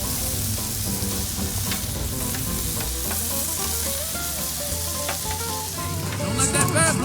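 Scallops and squash searing on a Blackstone griddle give a steady, close sizzle with crackling spatter throughout, brightening and growing louder near the end; no one speaks.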